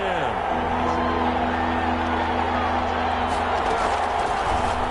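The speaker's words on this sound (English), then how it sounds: "Crowd getting in it a bit already." Football stadium crowd at an NFL game, a steady roar rising before a third-down play, loud and continuous under a commentator's voice.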